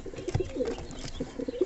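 Fantail pigeons coo softly inside a fancy-bird loft, a few low, throaty calls repeating over about two seconds with no talking.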